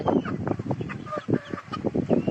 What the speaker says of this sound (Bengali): জনকামাটা দেশি মুরগি